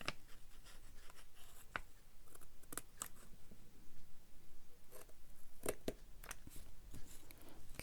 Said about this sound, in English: I'm going to take my little scissors and I'm just going to snip off these little parts right here